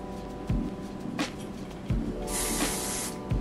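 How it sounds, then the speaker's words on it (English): A spray bottle misting styling product onto a plain brown synthetic wig gives several short hissing pumps, then a longer sustained spray near the end, all close and fairly loud. "And we're gonna spray this side down."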